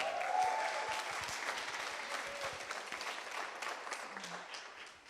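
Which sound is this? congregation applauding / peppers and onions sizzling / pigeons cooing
congregation applauding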